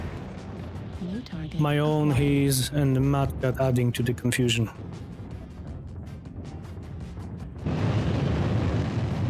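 Heavy booming weapon fire and explosions in the mech combat game MechWarrior Online, loud and repeated in bursts, heard under someone talking over most of the stretch.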